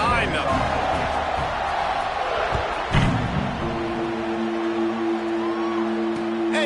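Stadium crowd in the video game College Football 26, a steady broad roar filling the background beneath continuous commentary, with a sustained tonal note entering midway.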